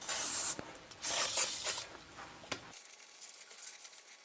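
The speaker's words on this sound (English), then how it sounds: "spray down the surface of the rotor with brake cleaner" Brake cleaner sprayed onto the front brake rotor of a BMW E34 during a brake service, heard as several short hissing aerosol bursts, close and fairly loud, with faint background after they stop.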